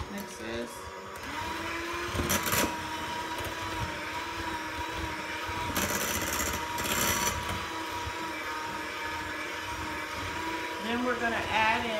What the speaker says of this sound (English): you want to go ahead and cream your cream cheese. So just mix this.